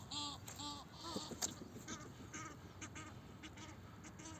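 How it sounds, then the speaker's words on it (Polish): Several ducks quack in repeated nasal bursts nearby, over a low, rumbling outdoor background. "Kaczki, kaczki, kaczki."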